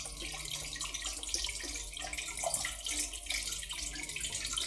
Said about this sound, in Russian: Здесь водопадик.